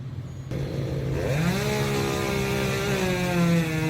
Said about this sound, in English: sorry for the noise, but they're trimming trees.